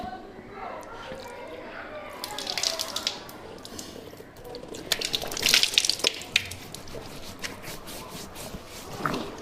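Water is scooped and splashed onto the face during ablution, with clustered splashes and drips from a faucet, loud and close, under a man's speech.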